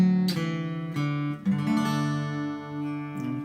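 Fingerpicked acoustic guitar plays the opening of a song, with clear plucked notes ringing and overlapping in a slow pattern, close and alone.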